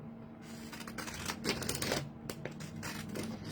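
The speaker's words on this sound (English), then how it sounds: "let's get out my pinking shears" Pinking shears snip through paper for a small journal pocket, giving dense, close crunchy clipping that runs continuously for a few seconds.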